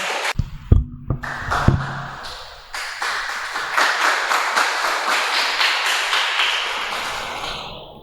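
A church congregation claps in praise, a few sharp separate claps at first and then settling into steady, rhythmic unison clapping that stays loud and continuous to the end.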